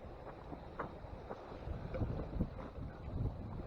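Wind blowing outdoors at Cave Run Lake on a cold day, a steady low rushing with gusty buffeting against the microphone and faint water movement, no talking.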